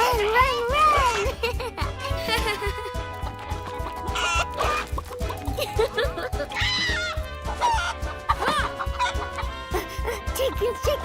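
Cartoon chickens cluck and squawk in a busy, bright flurry of animated bird calls, mixed with a voice speaking and a music bed.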